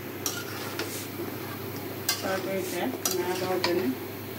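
A utensil stirs a sweet pumpkin and prawn curry in a pan on the stove, scraping and clinking against the metal in irregular strokes over a soft steady sizzle, close by.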